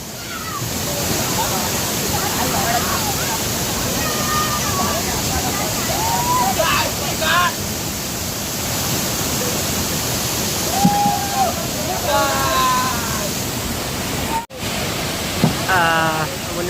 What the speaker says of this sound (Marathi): वरती धबधबा पण आज फास्ट झाले पाणी खूप आहे आज हे बघा